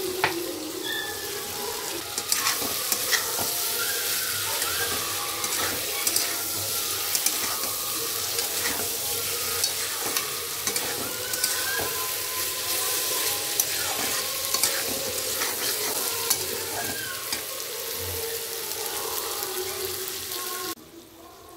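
Small mourola fish dropped into a pan of cooked spice masala sizzle and fry steadily, with stirring scrapes and faint water sounds close by, no talking.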